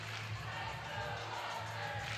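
Wofford Terrier fans cheering at an indoor volleyball match against Tennessee, a steady roar of crowd noise with no single voice standing out.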